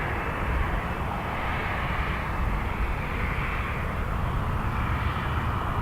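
Steady broadband roar of a Boeing 737-800's jet engines at Toronto Pearson airport, loud and continuous throughout with no talk, heavy low rumble underneath.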